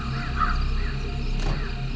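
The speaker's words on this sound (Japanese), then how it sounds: "今匂いに釣られてカラスが大量にやってきてる" A flock of crows gathered around household garbage caws in repeated harsh calls over a steady background drone, moderately loud and fairly close, with no speech.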